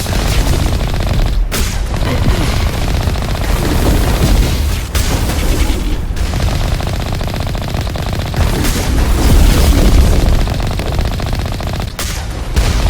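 Sustained automatic gunfire and explosions from the video game Mass Effect, loud and dense, with rapid bursts continuing almost without pause and only a few brief gaps.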